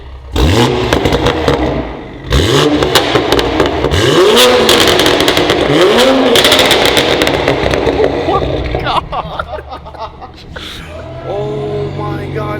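Toyota Supra with an Ark Performance DT-S exhaust revving loudly up close in repeated rising sweeps, with pops and crackles between blips and people reacting in the background.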